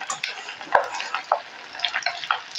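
Butter simmers in a pan as it turns into ghee, a close, soft bubbling crackle with scattered pops and a light tap of a stirring spoon.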